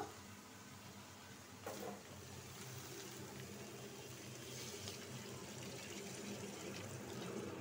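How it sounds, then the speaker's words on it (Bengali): Water pours in a steady, quiet stream into a pot of taro curry, a soft continuous rush running the whole time without any talk. "এখন পানি দিয়ে দিব।"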